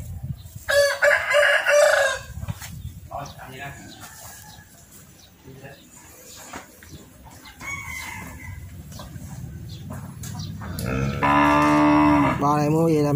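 Brahman cattle on a Vietnamese farm give loud, long moos at the start and again near the end, with a rooster crowing and people talking in between.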